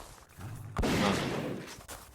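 A sudden gunshot blast erupts in a horror video game, cutting sharply through a quieter background and then trailing off into a lingering, noisy rumble.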